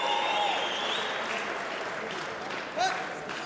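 A boxing crowd claps continuously in a dense, even wash of applause, with a few brief voices and whistles rising over it.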